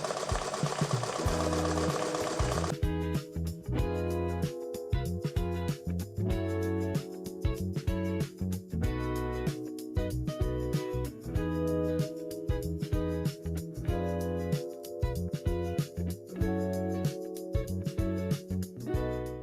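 An embroidery machine stitches a hat with a rapid, rhythmic mechanical chatter that runs steadily, broken by short pauses. A different noise comes before it starts.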